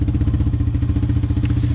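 A 2020 mini bike engine with a worn valve or piston ring idles in a rapid, steady chug, loud and close with a low, rumbling pulse.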